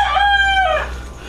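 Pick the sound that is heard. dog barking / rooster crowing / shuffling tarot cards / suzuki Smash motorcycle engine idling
rooster crowing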